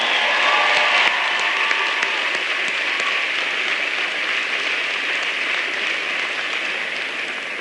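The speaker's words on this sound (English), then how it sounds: "Can everybody please give Jody a big round of applause for the introduction?" Sustained applause from a large town hall audience in Ohio, dense and steady at a constant loud level for several seconds with no talking over it.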